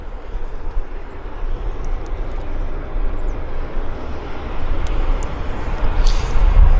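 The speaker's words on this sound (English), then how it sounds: "Convair will roll onto the active, I guess, pretty soon." Convair airliner at Vancouver Airport heard from a distance, a steady broad engine rumble that slowly grows louder toward the end, with no voices.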